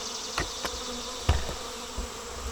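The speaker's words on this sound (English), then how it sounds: "We have some bees" Honeybees from a fall swarm fallen onto the ground outdoors, buzzing steadily at low volume, with a few brief louder passes as individual bees fly close by.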